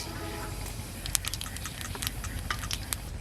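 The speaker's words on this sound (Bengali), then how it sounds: "তেল গরম হয়ে গেছে, কটা কালো জিরে ফোড়ন দিয়ে দিলাম" Nigella seeds tempered in hot mustard oil for a Bengali flat bean dish give off a faint, steady patter of small crackles and pops, quiet and continuous with no voices.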